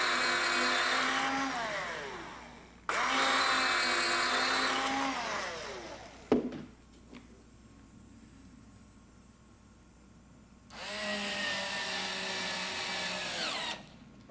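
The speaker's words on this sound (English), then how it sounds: "with a specialty drill bit such as this one here, which has a spring-loaded type of point that allows you to center the bit in the holes" A power drill fitted with a spring-loaded self-centering bit bores hinge holes in a door, whining in three long runs with a sharp knock and a quiet pause between them.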